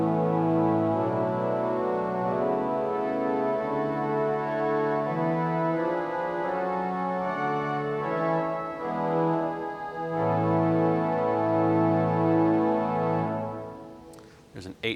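Church pipe organ in a hundred-year-old church, solo division string stops held as rich sustained chords that shift slowly, loud and steady, cutting off near the end with a brief clatter.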